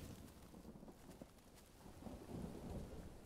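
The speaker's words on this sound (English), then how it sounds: "Ooh, thunder. Now that one's definitely thunder." Thunder in the survival video game Green Hell rolls as a low, steady rumble under a constant hiss of rain, swelling slightly toward the end, with no voice present.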